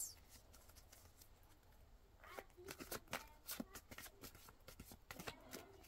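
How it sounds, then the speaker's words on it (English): Tarot cards being shuffled by hand, a run of crisp riffling snaps and soft slaps that start after a quiet moment and repeat irregularly, close and fairly soft. "Come on, Kelita, shuffle better."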